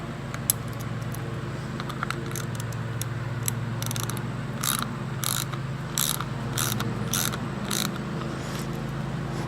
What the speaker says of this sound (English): then we'll ratchet it down with a 10 millimeter